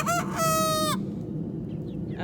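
A rooster crows close by in a short, loud call, with a brief cluck at the start and soft clucking afterward in an outdoor yard among other chickens.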